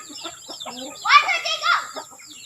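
A hen with eleven newly hatched chicks: soft, high chick peeps and clucking trill close by, busiest in the middle second, with faint chatter around them.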